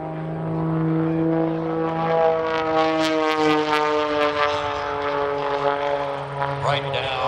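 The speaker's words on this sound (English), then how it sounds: "Mike has owned a number of Pitts aircraft over the years." A Pitts aerobatic biplane flies at the New York International Air Show, its propeller engine droning loud and steady with a strong humming buzz and rising and falling pitch, while a commentator talks over it.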